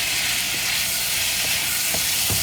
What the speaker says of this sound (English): we're going to nicely sort of like fry them crispy again for another 1 minute until the tomatoes are soft